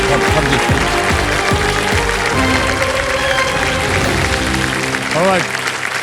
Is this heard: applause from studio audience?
yes